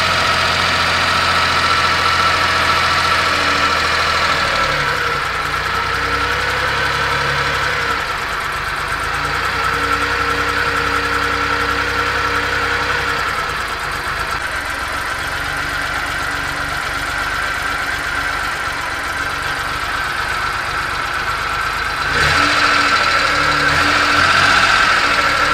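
Suzuki Carry mini dump truck with a carbureted engine idling steadily, a continuous close mechanical hum and rattle that rises slightly in intensity near the end, with no one talking.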